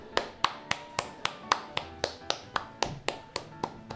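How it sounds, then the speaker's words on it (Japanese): Steady rhythmic clapping greeting guests in a studio, about four claps per second, crisp and close with no voices over it. "拍手。"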